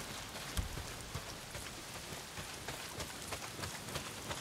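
Heavy rain pours down in the open-world game Days Gone, a dense, even hiss of falling drops with scattered louder patters, fairly quiet and with no speech.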